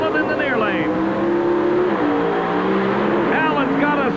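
Pro Stock drag cars, a Ford against a Chevrolet, launch at the 1988 NHRA Winston All-Stars with a loud, sustained engine roar that climbs in pitch, heard under an announcer's continuous commentary.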